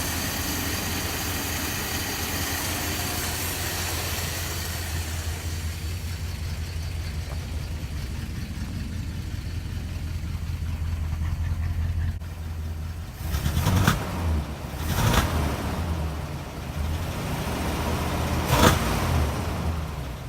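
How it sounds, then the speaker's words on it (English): A 1966 Plymouth Fury III engine starts and runs at a steady, loud idle, then is blipped in a few sharp revs near the end, close to the microphone with no talking. "Before you guys say anything about saying I'm revving a cold engine"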